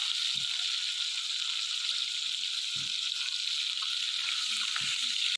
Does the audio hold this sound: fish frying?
yes